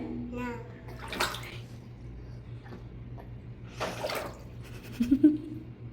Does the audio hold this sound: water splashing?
yes